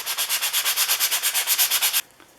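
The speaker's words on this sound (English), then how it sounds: "I'm going to use the sanding sponge on the flat machine surface" A sanding sponge scrubs the flat machined metal surface of a Stanley No. 10 carriage maker's rabbet plane in about sixteen quick, even back-and-forth strokes, close and rhythmic, then stops abruptly.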